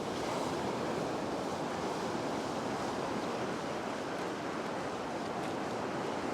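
Ocean surf breaks steadily on a beach where someone is fishing, a continuous loud wash of waves with wind buffeting the microphone and no voices.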